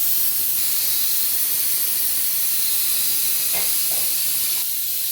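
Pressure cooker venting steam through its whistle while bottle gourd dal cooks, a loud, continuous, close hiss filling the whole stretch without pause or voices.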